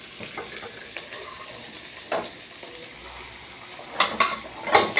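Cooked rice frying in oil in a pan for fried rice, a steady sizzle with scraping stirs and a few louder utensil knocks toward the end.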